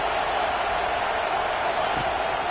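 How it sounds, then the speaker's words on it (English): A stadium crowd in the College Football 25 video game roars in a dense, continuous wall of cheering noise, loud and unbroken throughout. "Listen to this crowd just shaking the girders of this place"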